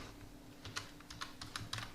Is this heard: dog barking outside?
no